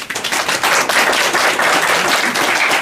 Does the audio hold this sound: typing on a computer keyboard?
no